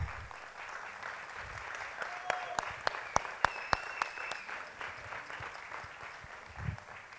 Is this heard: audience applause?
yes